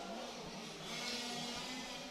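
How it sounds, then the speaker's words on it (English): A touring race car passes on a street circuit during European touring car qualifying, its mid-pitched engine droning steadily, then swelling louder and brighter as it sweeps by close. "Cars going past."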